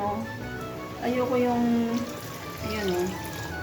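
Water from a tap runs steadily into a pot of tomato sauce during home cooking, with someone talking over the pouring.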